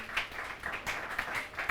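Students in a classroom clap together in a quick, even rhythm of light, rapid claps, moderately faint and continuing for a couple of seconds with no one speaking.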